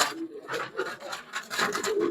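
Cooing from newly released male pigeons on their first flight day comes as close, soft, repeated throaty calls in a steady run, with no clear talk.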